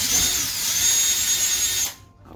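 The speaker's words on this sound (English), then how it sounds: "we're going to take a drill bit and we're going to get in here and make" Power drill boring a hole while installing a cast iron pot organizer, a steady high whine running close and loud for about two seconds before cutting off abruptly.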